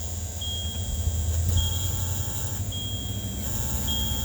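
A Ford's buzzer sounds short electronic beeps at a steady, evenly spaced interval over a constant low engine hum, with a weak battery.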